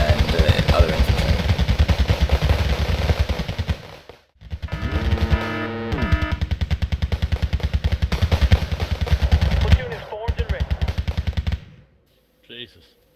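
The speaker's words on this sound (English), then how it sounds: "All they have is 20 rifles firing back at BTRs and other infantry." Rapid rifle fire from a battle in the video game Wargame crackles in dense, continuous bursts, with machine-gun-like rattling that pauses briefly and then resumes loudly before cutting off.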